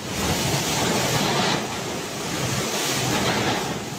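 Loud, steady roar of typhoon wind with rushing rain noise in Calbayog City, Samar, broadband and continuous throughout, buffeting the microphone with no voices.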